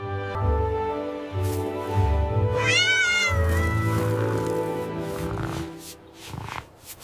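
A farm cat meows loudly and clearly several times, with a drawn-out rising and falling cry in the middle and shorter calls around it, heard close up against a soft musical background.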